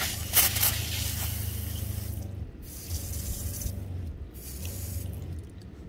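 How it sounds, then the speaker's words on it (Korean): Steady hiss of water spraying from a shower head at a campsite, with a low automatic water pump motor hum that stops and starts in pulses underneath. "물 틀면 물 잘 나오고"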